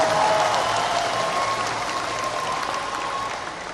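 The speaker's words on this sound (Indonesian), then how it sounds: "Tepuk tangan untuk para pejuang reformasi kita." Applause for reform fighters at a rally marking 25 years of reform in Indonesia: a crowd claps steadily and loudly, then fades slightly toward the end.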